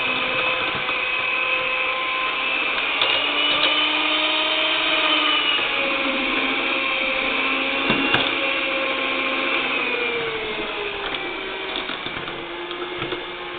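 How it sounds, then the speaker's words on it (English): An electric mixer runs on low speed through cheesecake batter in a pot, giving a steady, loud motor whine with a stable pitch. It continues for the whole stretch with no speech. "I'm going to mix it on low speed because I don't want it to incorporate a lot of air"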